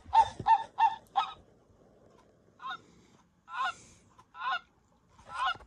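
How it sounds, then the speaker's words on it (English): Canada goose honks from a singing bird clock chime: a quick run of four loud honks, then a pause and several more spaced honks, clear and close with no talking. "Canada goose."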